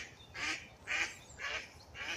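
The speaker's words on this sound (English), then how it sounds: "gonna get really interrupted by a duck." Duck quacking outdoors on a nature walk, four evenly spaced nasal calls about half a second apart, moderately close over quiet background.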